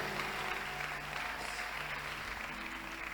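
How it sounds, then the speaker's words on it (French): Applause from a congregation at a church sermon, a faint, steady patter of clapping heard at a distance throughout the short stretch. "Si tu veux applaudir, applaudis."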